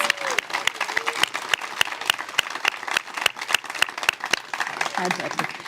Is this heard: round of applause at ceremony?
yes